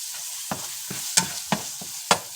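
Cheesesteak meat browns in a hot pan, a steady sizzle broken by several sharp scraping stirs at irregular intervals, close and fairly loud with no voices.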